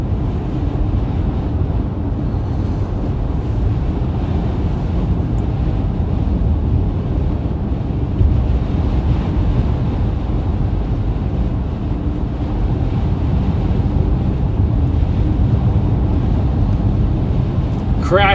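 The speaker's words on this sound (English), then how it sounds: "it's an insane wind out here, guys" Blizzard wind roars steadily across Iowa and Nebraska during a winter storm, a loud, dense, unbroken rush buffeting the microphone for the whole stretch.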